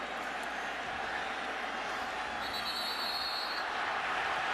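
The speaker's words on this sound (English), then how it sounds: "And listen to this crowd." Football stadium crowd at a Virginia Tech at Miami college game, a broad, distant roar of cheering that swells steadily, heard faintly as a continuous wash without nearby talk.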